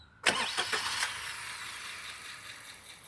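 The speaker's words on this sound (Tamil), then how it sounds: "இன்ஜினை ஸ்டார்ட் பண்ண சொல்லுவோம். ஸ்டார்ட் பண்ணுங்கள்," A Maruti Dzire Z series three-cylinder engine cranks and fires with a quick stuttering start, then settles into a faint, steady idle.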